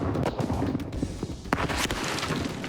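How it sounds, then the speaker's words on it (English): Rifled artillery gun firing elongated shells, a dense cluster of sharp booms and cracks in quick succession, loud and close, with rumbling echo between blasts. "rifled gun, shooting different elongated shells that spin in flight"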